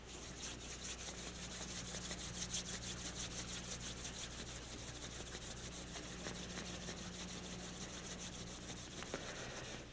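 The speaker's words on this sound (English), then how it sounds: "rub your hands" Two hands rubbing briskly together during an eye-yoga routine, a steady dry swishing friction that holds at an even level for about ten seconds, close and continuous with no speech.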